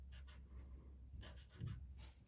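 Pens scratch across paper in short strokes while colour swatches and lettering are being made, a series of soft, close, quiet scribbling bursts with brief pauses between them.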